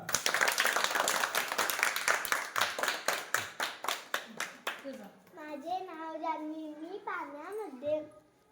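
A group of children claps hands together in a fast, dense burst for about five seconds, the claps then thinning out before a voice takes over alone.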